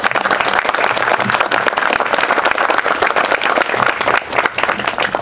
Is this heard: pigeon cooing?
no